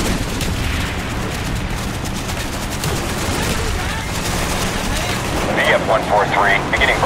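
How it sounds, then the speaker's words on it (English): Strafing-run gunfire in a Call of Duty Black Ops war-zone battle: dense, loud, sustained rattling fire and rumbling blasts, with radio voices partly heard over it. "Roger, X-ray coming in for strafing run"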